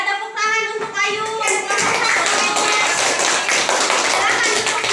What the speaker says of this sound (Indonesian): Ya, tepuk tangan untuk Ayu